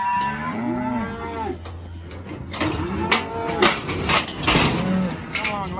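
Cattle moo repeatedly, several drawn-out calls one after another, loud and close, in a farm yard where cows are being prepared for an artificial insemination program; clattering noises sit between the calls.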